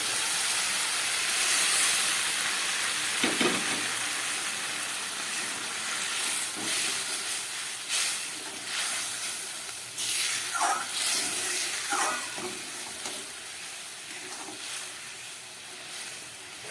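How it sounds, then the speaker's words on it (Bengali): Warm water is poured into a hot pan of tangra fish curry with fried potatoes, producing a broad, continuous hiss and steamy sizzle that slowly fades, close up, without speech. "এবার দিয়ে দিচ্ছি উষ্ণ গরম জল।"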